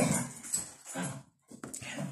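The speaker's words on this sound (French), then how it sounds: "Les chiens sont déchaînés ce matin." Several dogs barking and whimpering indoors on a lively morning, close and fairly loud in busy bursts with a brief pause midway, then more yelps and whines.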